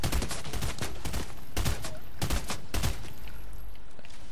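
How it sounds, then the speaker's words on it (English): Gunfire in the video game Fortnite: several rapid bursts of loud, sharp shots crackle in quick succession, then give way to a lower rumbling tail. "I already hear shooting."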